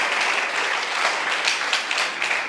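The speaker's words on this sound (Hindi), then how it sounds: "ताली बजाओ जोर से" A standing audience claps loudly and continuously at a training event, a dense, steady wash of applause with no break.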